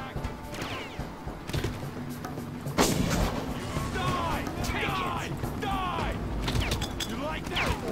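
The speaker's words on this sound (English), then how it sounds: "don't use the mortar here. It's not good for your health." Mortar fire and explosions in the video game Far Cry, with heavy booms and rumbling blasts layered over constant game noise and a voice talking.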